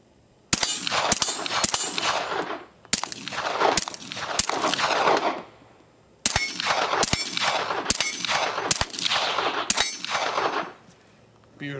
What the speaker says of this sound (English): Glock 19, suppressed.